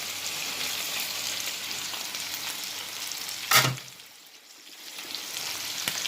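Cabbage fries with saltfish in a pan, giving a steady, fairly quiet sizzle that briefly sharpens with a stir or clatter and then dips before the frying builds again.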